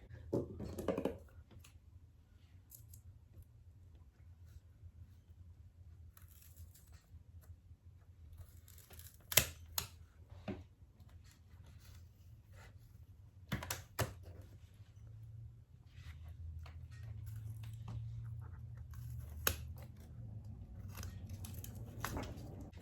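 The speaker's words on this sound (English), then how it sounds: "They're pretty jagged because I'm working with my kitchen scissors" Kitchen scissors snip intermittently through a monstera deliciosa stem, a handful of crisp, jagged cuts spaced irregularly over a low, quiet background hum.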